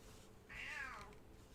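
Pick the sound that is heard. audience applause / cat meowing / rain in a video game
cat meowing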